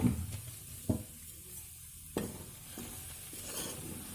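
Atta flour is stirred and roasted in ghee in a wok over a medium flame for laddu. A faint, steady sizzle runs under a few soft scraping strokes from the stirring spoon.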